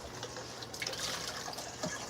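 Water poured into a kitchen vessel while making a chocolate mousse, a steady close splashing stream that runs throughout, fairly soft and with no talk over it.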